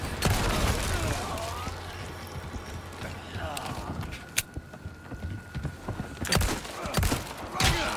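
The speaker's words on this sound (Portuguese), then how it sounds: "Caraca, Rivas, tá errando os tiros tudo." Gunfire in the video game Resident Evil 4 Remake, a few sharp isolated shots scattered among clattering, creaking game effects and low ambient rumble.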